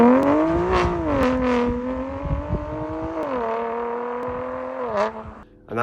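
A BMW M2 Competition with a Milltek OPF-back, equal-length exhaust drives past, its engine note loud and continuous, rising and falling in pitch as it accelerates and shifts, with no talking.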